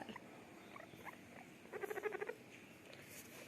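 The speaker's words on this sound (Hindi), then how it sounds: "ऐसी आवाज़ निकाल रहा है जैसे वो काँप रहा है" A small pet rodent in cold rain gives a faint, rapid run of trembling chirps near the middle, over a quiet patter of rain.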